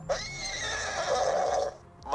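A horse neighs in the video game Borderlands 2, a long whinny lasting most of the clip, loud and close, with a faint stirring at the end.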